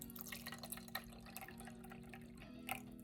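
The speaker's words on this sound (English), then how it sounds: "So I have some water here in a cup, so we'll pour that in there." Water poured from a cup into a small makeup brush washing machine gives quiet trickling and dripping splashes, faint and close over a steady low hum.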